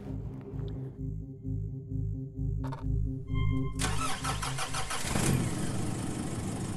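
A car engine cranks and catches, then settles into a steady idle after a quiet interior stretch with faint tonal chimes, the engine close and moderately loud.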